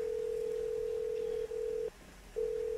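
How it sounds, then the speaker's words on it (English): Phone ringing in a Roblox game: a long steady electronic ring tone that pauses briefly, drops out for a moment and then resumes, loud and constant with no voices. "Ringing."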